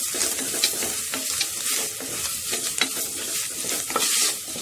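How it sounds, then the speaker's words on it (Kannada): Spice powders being stirred into oil on a low flame, with soft continuous sizzling and repeated scraping strokes of a spoon against the pan, close and moderately loud. "ಎಲ್ಲ ಪೌಡ್ರುಗಳನ್ನು ಹಾಕ್ಕೊಂಡು ಜಸ್ಟ್ ಆ ಎಣ್ಣೆಯಲ್ಲಿ ಮಿಕ್ಸ್ ಮಾಡಿ"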